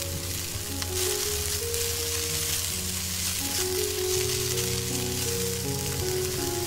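Chives and eggs stir-fried in a restaurant chef's wok give a steady, loud sizzle with crackling oil, while faint scraping and tossing recur throughout, alone with no voices over it.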